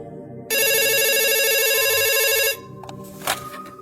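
A home telephone rings with a bright, steady electronic trill for about two seconds, loud and close, then stops, leaving faint room noise and a short click.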